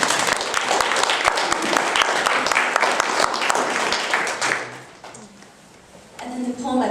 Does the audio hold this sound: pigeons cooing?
no